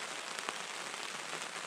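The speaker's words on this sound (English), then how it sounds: "It's raining pretty heavily again." Heavy rain drums steadily on a tent at a backcountry campsite, a dense, even patter with no pause and no voices.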